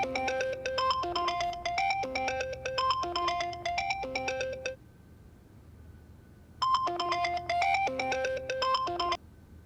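A phone ringtone plays a melodic electronic tune over a call to mother: two bursts of repeated chiming notes, a roughly five-second ring, a pause, then a second ring of about three seconds, steady and clear with no talking.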